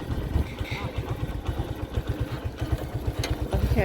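Engine of a motorcycle taxi (bajaji) idling close by, a steady low putter that runs through the whole stretch with a faint clatter, while traffic and street noise sit in the background.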